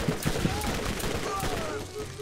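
Rapid gunfire bursts in the video game Borderlands, a quick cluster of sharp shots at the start followed by a dense, noisy game soundscape.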